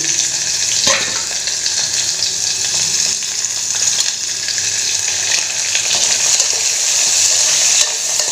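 Chopped onion and green chillies sizzle steadily in hot oil with mustard seeds and cumin, a loud, continuous bright crackle with occasional stirring scrapes and no talking.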